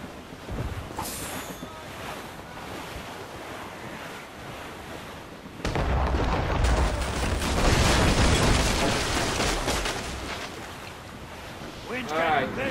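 Wind and ocean surf roar around a sailing ship among icebergs in Assassin's Creed Rogue, a steady rushing bed that swells into a louder, fuller gust of wind and crashing waves midway through.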